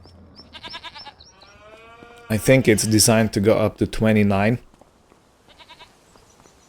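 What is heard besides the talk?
sheep bleating in a sheep pen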